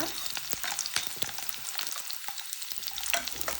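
Garlic and dried red chillies frying in oil for a ridge gourd chutney, a soft steady sizzle with frequent small crackles and a few spatula taps, fairly quiet and close, no speech.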